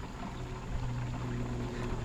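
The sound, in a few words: water poured into a 4-gallon jug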